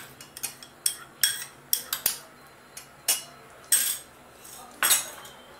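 A spoon stirs cream into methi malai mutter in a pan on low heat, producing a series of close clinks and scrapes against the metal at an uneven rhythm, about a dozen distinct strikes.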